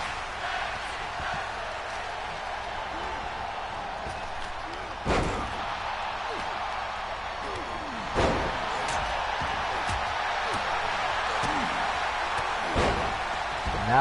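Heavy wrestling power slams and a knee strike boom out three times over a constant roar of a crowd, each impact sharp and loud against the steady background noise.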